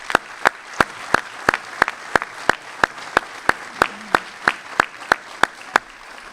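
At an Army ROTC Class of 2024 commissioning ceremony, a crowd salutes its future lieutenants with steady, evenly spaced clapping in unison, sharp beats about three per second, fairly close, with no talk over it.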